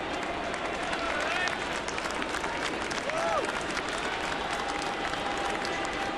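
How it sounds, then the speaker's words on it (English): Baseball crowd at Rogers Centre cheering after a home run on a Saturday afternoon, a steady, broad roar of applause and voices filling the stadium, with an announcer talking over it. "Mathis's home run has stirred the crowd here at Rogers Center."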